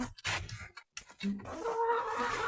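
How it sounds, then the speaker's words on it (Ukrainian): A hen clucks inside a chicken coop in short, close bursts, with a few rustling knocks in between and a longer run of clucking toward the end. "О, тут вийшла курочка."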